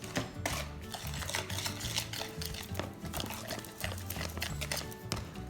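Sugar and eggs mixed by hand in a bowl for a sugar kucha batter, a steady continuous stirring scrape with soft clinks against the bowl, close and fairly quiet throughout.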